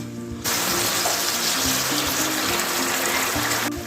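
Half a glass of water pours steadily into a pan with a constant rushing hiss, starting abruptly and running without a break until near the end.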